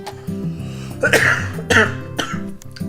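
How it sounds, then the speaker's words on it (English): A few harsh, close coughs over steady background music, coming in short bursts about half a second apart. "Give me a second to let the coughs out."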